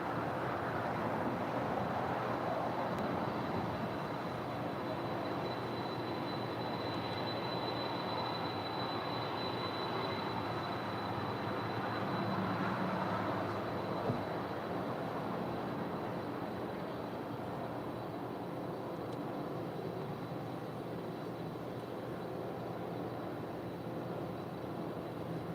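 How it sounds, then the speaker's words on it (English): An old passenger Boeing 747 taxiing at LAX, heard as a steady distant roar of jet engines with a faint high whine, holding fairly even throughout. "Obviously, this is an old passenger 747"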